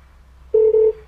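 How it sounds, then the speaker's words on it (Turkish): A small budget Bluetooth speaker, the Free Sound FS08, gives a notification beep at maximum volume: a single loud steady tone of about half a second, briefly broken in the middle, over quiet hum. "basılı tuttuğunuzda ses fulleniyor ve size bir yine bildirim sesi veriyor."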